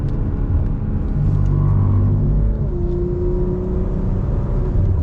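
BMW M340i with downpipes and aftermarket exhaust, its engine and intake droning loud and steady from inside the car, a rising tone as it pulls through the gears, no talk.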